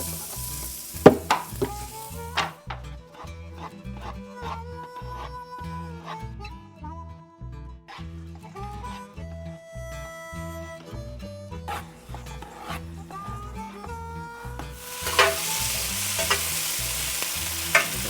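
Onions and spices stir-fry in peanut oil, a soft sizzle with scraping stirs under a prominent background of tonal music, the frying rising louder near the end.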